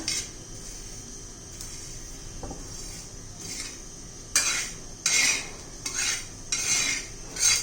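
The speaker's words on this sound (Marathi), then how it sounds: "एकसारखा हलवत राहायचे हे पहा तिळ आपले छान असे भाजलेले आहेत" Sesame seeds dry roasting in a pan over low flame, stirred with a spoon: soft scraping and rattling strokes that grow into brighter bursts of clinking and swishing toward the end, with no talk.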